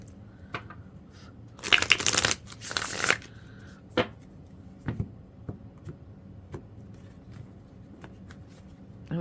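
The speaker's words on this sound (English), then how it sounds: "All right, last shuffle." Tarot cards are riffled and shuffled close up in two quick bursts of crisp flutter, followed by scattered light taps and clicks as the deck is handled in a quiet room.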